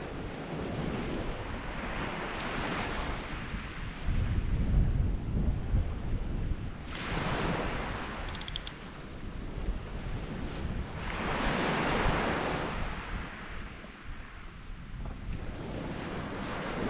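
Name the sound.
strong gusty wind on coast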